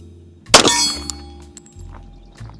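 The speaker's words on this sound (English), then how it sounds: "I really enjoy shooting the Glock 21." A Glock 21 pistol fires a single .45 ACP round: one sharp, loud crack close by, followed by a short metallic ringing tail and quiet background.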